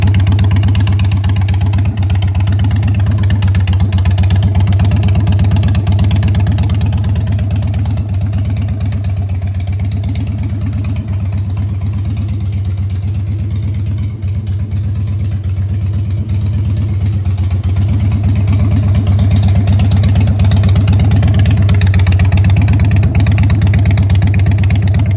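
A 2002 Harley-Davidson Springer Softail motorcycle, freshly dyno tuned, idles with a loud, steady low engine rumble close by, holding an even pulse with slight swells in level.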